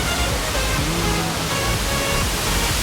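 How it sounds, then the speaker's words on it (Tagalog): The waterfall at Khorfakkan roars as a loud, steady rush of broadband water noise that fills the whole moment, with faint voices low underneath. "Ang lakas kasi ng huni ng waterfall."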